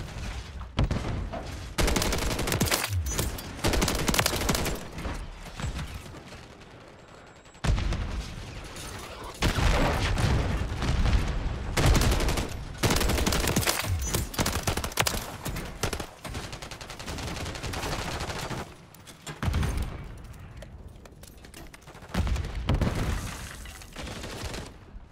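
Near-continuous gunfire in a Modern Warfare 3 multiplayer match, including DG 58 LSW automatic fire and shotguns, with long rapid bursts and heavy reports that are close and loud and have only short gaps throughout.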